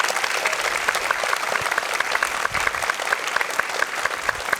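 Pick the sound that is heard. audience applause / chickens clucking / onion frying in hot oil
audience applause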